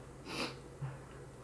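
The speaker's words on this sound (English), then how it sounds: "Here comes the sniffles." Two short, breathy sniffs, the first longer and the second a quick snort-like intake, close by and fairly quiet.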